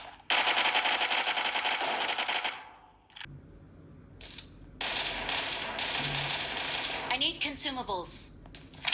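Rapid video-game gunfire and mechanical clatter through the small, tinny speakers of an Honor Magic 4 Lite or Samsung A52 5G phone, with bursts, brief pauses and a quieter stretch in the middle.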